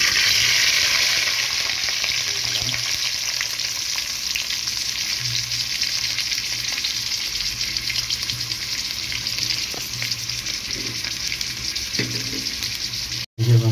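Pumpkin fries in oil in a pan as chili is added, making a loud continuous sizzle with occasional stirring clinks and scrapes, and a brief cut near the end.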